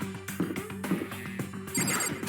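A doorbell chiming in the video game Danganronpa, with repeated tonal dings ringing in quick succession over a steady game background.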